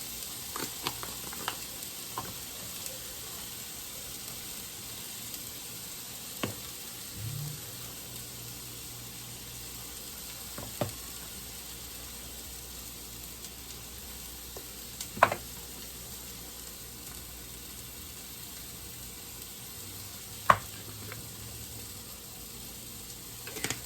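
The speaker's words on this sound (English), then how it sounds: "So we're gonna let these sear for about 2 to 3 minutes on each side" Steaks searing in a hot pan, with a steady broadband sizzle running throughout and occasional sharp pops and spatters standing out above it, close and moderately loud, with no talking.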